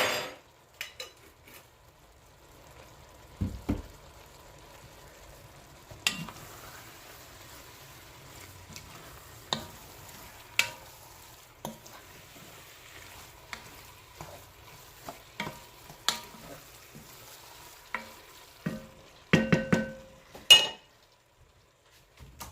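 Pre-minced garlic cooks in a pan for spaghetti sauce, a faint sizzle under sparse sharp clinks and scrapes of a utensil against the pan, quiet with bursts of clatter toward the end.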